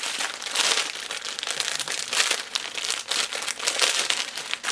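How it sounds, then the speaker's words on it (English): Crisp, close crinkling and rustling of plastic packaging being handled and pulled open around a clothing order, a continuous irregular crackle with quick bursts. "so I opened it and got more plastic"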